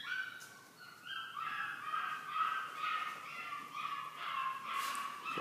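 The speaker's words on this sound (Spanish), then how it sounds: "La perrita." A small female dog yipping and barking in a home, a run of sharp, high, close-up yelps and squeaky barks in quick, uneven bursts.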